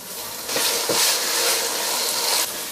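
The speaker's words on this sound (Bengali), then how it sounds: "আদা রসুন বাটাটাকে একটু ভেজে নিলাম।" Ginger and garlic paste fries in a hot pan with a steady hiss and sizzle, close and fairly loud, with a couple of soft stirring knocks near the start.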